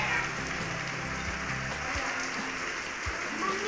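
Steady rain falls during a rainy day at an Indian home, a continuous broadband hiss with faint low rumbles and occasional soft patters throughout.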